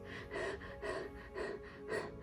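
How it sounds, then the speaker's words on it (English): Shallow breathing performed as a demonstration: a steady series of short, soft breaths, about four in two seconds, close and audible with no talking. "Oftentimes we take very shallow breaths."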